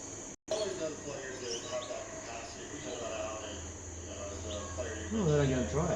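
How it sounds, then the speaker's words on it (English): Lovebirds chirp and tweet indoors, their small calls close by, while people talk over them and a steady high hiss runs underneath. "There must be lovebirds."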